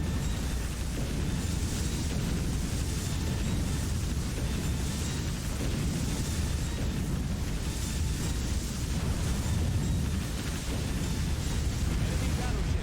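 A battleship explodes and sinks in the naval combat game Warship Gunner 2, a dense, continuous rumbling roar of blasts and fire, loud and sustained throughout.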